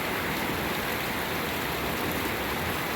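Rain falls steadily, close and even, as a dense hiss with no breaks and no voices, on a rainy day in Idaho.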